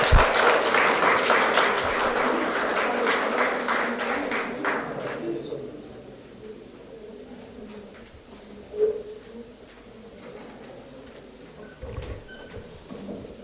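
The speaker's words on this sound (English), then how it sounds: "Can we please have a huge round of applause?" A burst of applause at a medical conference closing ceremony fills the first few seconds, then fades into quieter room noise with faint cooing birds and a couple of soft knocks.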